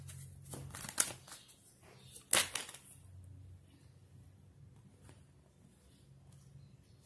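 Tarot cards being shuffled and drawn by hand at a reading table: two crisp bursts of riffling and flicking near the start, then quiet soft handling of the deck, close and dry with no talking.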